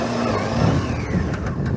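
Honda Hornet 600F motorcycle climbing a hill on a coastal trail, its engine droning steadily and loud at close range with a rising pull as it works uphill, no voices over it.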